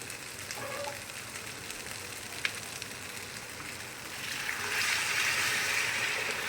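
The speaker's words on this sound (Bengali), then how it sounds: "এবার আমি গরম জলটা দিয়ে দেবো" Rice fries quietly in oil for a pulao, then hot water goes into the pan and a broad, louder hiss and bubbling swells and holds to the end.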